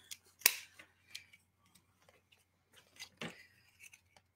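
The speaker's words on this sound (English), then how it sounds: "And this is meant to punch paper. It's jamming up a little bit on this foil" A handheld paper punch bites through sticky copper foil for stained glass, giving a few sharp, close clicks and crunches separated by quiet pauses, with no talking.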